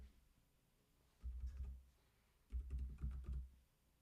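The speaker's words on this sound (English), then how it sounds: "Then I'm going to type in the company name." Keystrokes on a computer keyboard while entering a company name into an investment-tracking web app, quiet clicking in two short bursts separated by a pause, close and soft with no talking.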